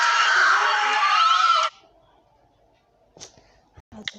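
A crowd of people screams in horror at a ghastly female creature with black hair and greenish skin, a loud, dense burst lasting over a second before cutting to near silence and scattered faint voices.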